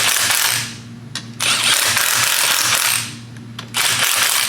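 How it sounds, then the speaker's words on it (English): Ratchet clicks in two quick bursts while bolting a rubber-bushed transmission mount from a Collins kit onto a CD009 six-speed manual gearbox during an SC400 swap, close and crisp over a low steady hum. "we're bolting our mount to the transmission now"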